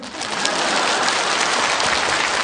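Audience applause at a Yanbian comedy sketch performance, a dense steady wash of clapping that fills the whole stretch at an even, fairly loud level with no voices standing out.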